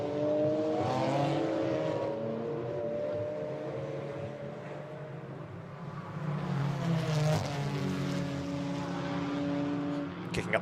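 GT4 race cars, including a turbocharged Mercedes, roar around the Hockenheim circuit toward the hairpin, engines rising and falling in pitch through gear changes, with a commentator talking over them.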